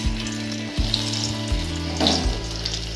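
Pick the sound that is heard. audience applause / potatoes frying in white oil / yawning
potatoes frying in white oil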